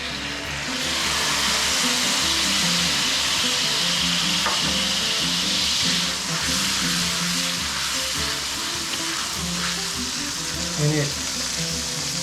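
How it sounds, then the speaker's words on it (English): White wine vinegar poured into a hot pan of onion and garlic to deglaze it, giving a loud, steady, hissing sizzle that holds for the whole stretch with only faint stirring beneath. "we'll go ahead and add in some of this white wine vinegar"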